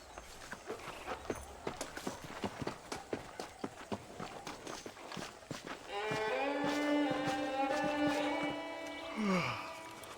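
A horse is ridden in Red Dead Redemption. Its hooves give a steady rhythmic clip-clop for several seconds, and then a loud whinny rises and falls at the end.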